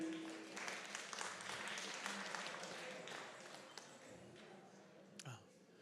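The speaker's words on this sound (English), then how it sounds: "So a round of applause for Allison Messier." A round of applause from the audience at an entrepreneurship innovation challenge final, dense clapping that swells early and thins out over several seconds, with a voice starting to speak faintly near the end.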